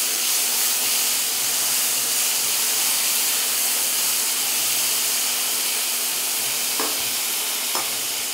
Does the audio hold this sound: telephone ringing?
no